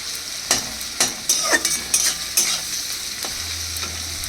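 Garlic goes into hot oil and fries in a pan with onions, a close sizzle punctuated by a series of sharp spatula scrapes and stirs, with no one speaking.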